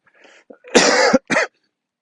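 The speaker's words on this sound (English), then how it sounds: "Still got a cough that I've been dealing with for the last month or so." A single harsh cough, close and loud, followed by a shorter second cough, with a faint breathy sound just before.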